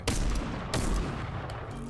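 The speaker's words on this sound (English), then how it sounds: "This is the hand cannon, right?" Hand cannon gunfire in Fortnite Chapter 2, two heavy booming shots with long rumbling tails over a constant loud game din.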